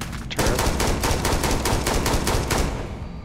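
Automatic turret fire in the Starfield video game rattles loud and close in a rapid, steady stream of shots lasting about three seconds, with no talk.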